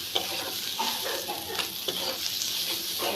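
Spices and turmeric powder frying in hot oil for a papaya stir-fry, a continuous close sizzle with a spatula scraping the pan in regular strokes, no voices.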